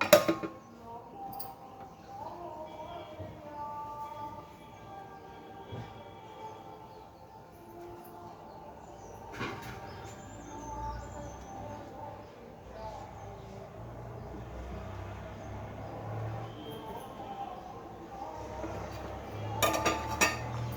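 A lid set onto a cooking pot of foxtail millet pongal, giving a faint metallic clink amid a quiet kitchen with low background hum and a few scattered utensil taps.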